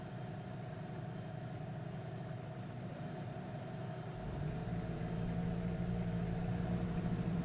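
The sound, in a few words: racing cars starting engines at Suzuka in a racing video game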